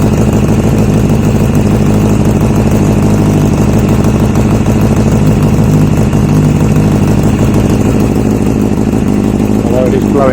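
A Tango engine idles steadily at its first startup in a new frame, a loud, continuous mechanical drone running the whole time with a faint voice mixed in beneath it.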